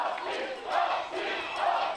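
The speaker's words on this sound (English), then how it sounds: "when this Swiss crowd find their voice together, they really do make some noise" Swiss supporters at a Rugby Europe Men's Trophy match between Switzerland and the Czech Republic chant together, a swelling, droning crowd voice rising in two loud waves.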